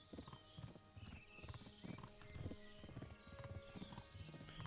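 Horse hooves clip-clop in a steady rhythmic gait in the medieval game Kingdom Come: Deliverance, with faint tack and ambient game sounds layered under the hoofbeats.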